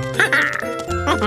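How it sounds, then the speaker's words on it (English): Cartoon duck quacks twice in a bright, nasal, voiced burst, close and loud, with no other sounds around it; it may be a person voicing the quack for the animated duck. "Quack, quack!"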